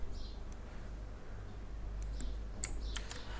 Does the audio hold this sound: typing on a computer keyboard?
yes